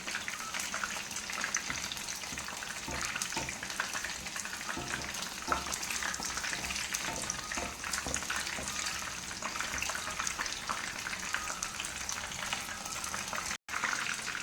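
Chicken pieces frying in hot oil give a steady, dense sizzle and crackle that runs unbroken for the whole stretch, close and fairly loud, with no voices over it.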